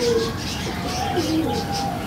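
Male blue kamangar kasni pigeons coo in soft, rising and falling calls close by, a few notes over a faint steady background.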